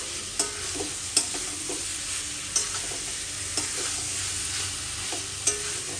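Pointed gourd stir-frying in a pan for a prawn curry, with a steady sizzle and a few sharp stirring clinks and scrapes spread through it, close and alone.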